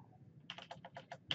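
Typing a command on a computer keyboard while configuring switch port security: a close, quick run of about seven crisp keystrokes, with a final sharper tap.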